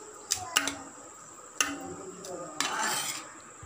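A spoon stirs fried carrot, onion and tempering into a semolina batter in a metal bowl, giving a few sharp clinks and scrapes spaced apart, then a longer scraping stir near the end.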